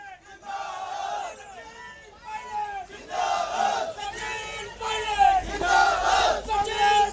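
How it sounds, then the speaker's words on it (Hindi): A large crowd at a Rajasthan Congress political rally cheers and shouts in loud rising waves, clapping mixed in, welcoming deputy chief minister Sachin Pilot; the roar swells and ebbs continuously for several seconds. "जोरदार तालियों के साथ आप स्वागत और अभिनंदन करें"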